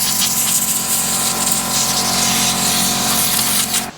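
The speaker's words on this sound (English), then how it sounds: "I can use this to blow out the blade guides and all of the things that I haven't cleaned very well on this with the big blower." A big air blower blasts out the blade guides and dust on a sawmill, a loud, steady rushing roar running nearly unbroken for about four seconds before cutting off abruptly at the end.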